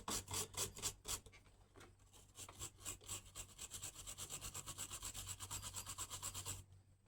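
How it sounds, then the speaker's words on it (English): A scrub brush is worked hard back and forth over the positive battery cable of a 2002 Harley-Davidson Dyna Super Glide, a close, rapid, steady rasping rhythm of strokes that continues without talk. "Aggressively scrub your positive cable until you get shiny out of it."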